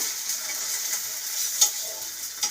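Food frying in a pan gives a faint, steady sizzle, with a couple of soft scrapes from turning it over.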